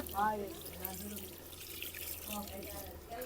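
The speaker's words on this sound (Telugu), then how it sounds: "ఈ మొక్కలు బాగా ఉడకాలంటే వాటర్ ఫుల్గా వేసుకుని ఉడికించాలి" Water running steadily into a pot, a soft continuous splashing with voices talking quietly over it.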